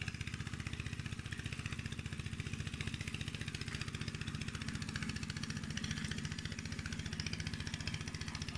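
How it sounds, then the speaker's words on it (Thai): A tractor engine runs at a steady idle in a remote rural setting, its rapid even chugging pulses continuous and fairly faint, with no talking. "รถไถ"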